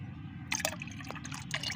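A tablet solution is poured into 5 litres of water, sounding as a short burst of splashing and gurgling liquid that starts after a quiet moment and continues unevenly, close and fairly soft.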